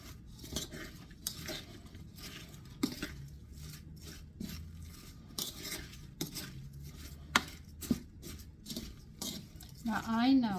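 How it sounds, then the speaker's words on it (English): A small spoon stirs and scrapes through cucumber salad in a bowl, with repeated clinks and soft wet scraping taps at an uneven pace, close up and mixed with background noise. "Mix this up. I'll use Dudley's favorite little spoon."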